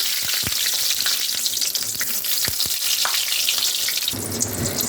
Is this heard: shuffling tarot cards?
no